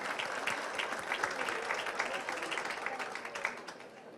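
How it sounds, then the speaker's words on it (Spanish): Audience applause at a public tribute event honoring Heberto Castillo, a dense, steady wash of many hands clapping for the whole stretch, with faint voices mixed in beneath. "a Castelo, secretaria de Igualdad de Género, a esa sí hay que aplaudirle, porque es para igualdad de género."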